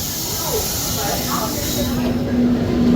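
Express train arriving at a busy station before a football match, a steady rumble and hiss with a faint tonal squeal, heard under crowd chatter and nearby voices.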